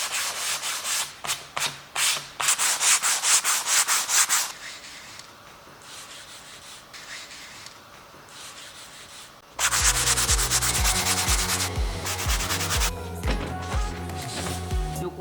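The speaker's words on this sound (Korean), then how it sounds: "요거 600방짜리로 가볍게 밀어줄게요." Wood is hand sanded with 600-grit sandpaper to knock down raised grain: quick rhythmic back-and-forth rasping strokes, a quieter softer stretch in the middle, then another loud run of rough close scrubbing.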